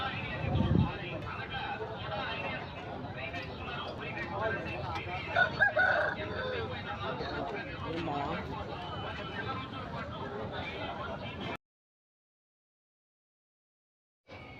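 A rooster crows amid the steady crowd noise of a busy livestock market at Rayachoti, Kadapa district, with voices talking throughout and occasional clucking before the sound cuts out briefly.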